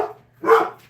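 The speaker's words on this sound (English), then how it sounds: "He barks at everything." A dog barks twice, one loud bark in the middle and a brief sound at the start and end, close and indoors with no talk.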